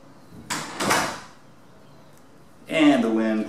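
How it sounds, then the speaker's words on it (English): A door blown shut by the wind in a workshop during dirt bike repair, giving two quick thuds early on before a pause, followed by a burst of talk. "And the wind closes our door."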